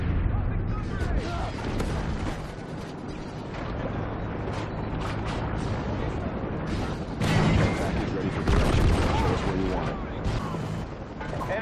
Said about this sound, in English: Grenade launching.